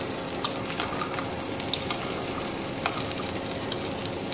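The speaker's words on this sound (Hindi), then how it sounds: "तेल डाले बाद ये भिंडी को हम डाल देंगे और आँच को फुल कर देंगे" Okra (bhindi) frying in hot oil over a full, high flame gives a loud, continuous sizzle, with scattered scraping and stirring clicks and no voices.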